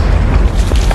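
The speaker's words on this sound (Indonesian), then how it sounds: "roket yang digunakan kali ini memiliki daya ledak yang sangat besar" A rocket explosion destroys a house in a film sound effect, a loud, deep, roaring boom that fills the whole second as a dense, sustained rumble.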